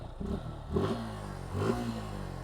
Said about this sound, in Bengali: এই যে গাড়ির সাউন্ডটা দেখছেন